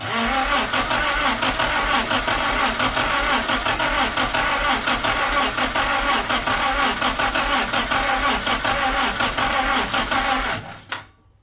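The engine of a 1942 Jeep cranks steadily under the starter without catching, as if starved of fuel, a loud rapid churning that runs nearly eleven seconds before stopping abruptly.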